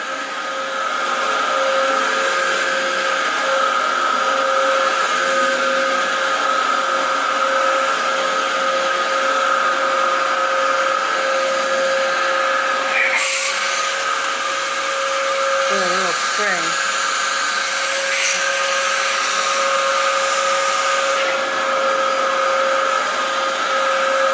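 A Dyson DC07 upright vacuum cleaner runs on apartment carpet, giving a loud, steady motor whine and airflow roar throughout, with a brief rattle and shifting tone near the middle.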